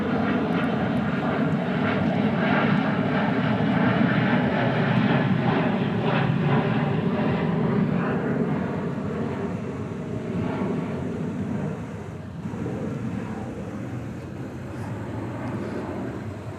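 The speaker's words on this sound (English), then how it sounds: "Rolls-Royce Trent confirmed. Engines on that 777-200." A Boeing 777-200 with Rolls-Royce Trent engines at an airport, its engines producing a loud, sustained roar that slowly eases off without any voices.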